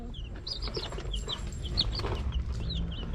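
Several young laying hens cluck and chatter close by in steady, overlapping bursts over a low rumbling background, with no voices.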